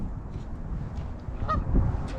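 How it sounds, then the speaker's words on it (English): Canada geese on a pond honk a few times, one nearer call standing out briefly above a steady outdoor background. "We got a total of 18 Canadian geese here."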